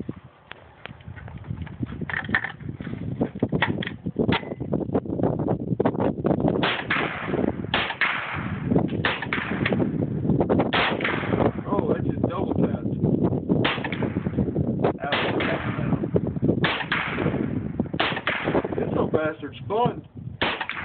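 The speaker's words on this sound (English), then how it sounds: "Three round burst, Ryan." A .22 rifle fires outdoors in a long run of sharp, loud cracks that repeat densely over about twenty seconds, sometimes in quick bursts, with occasional voices nearby.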